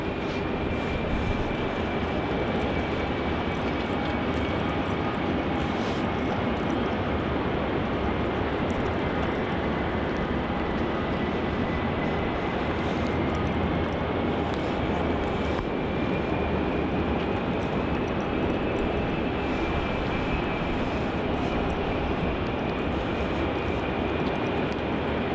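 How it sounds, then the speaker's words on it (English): Qantas QF413 from Sydney lands on runway 34 at Melbourne Airport, a steady loud roar of aircraft engines holding for the whole stretch with a faint high whine running through it. "Landing on runway 34, we have QF 413 coming in from Sydney."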